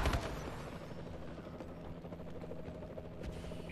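A Warbird aircraft in the Call of Duty Advanced Warfare video game, a Domination match, gives a steady rotor-like whir with faint gunfire underneath. The sound is quiet and continuous throughout.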